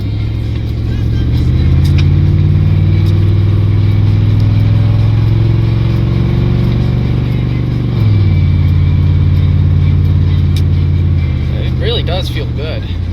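A car with a newly installed transmission drives along, its engine humming steadily from inside the cabin with a brief dip in pitch midway, as a person talks over the noise.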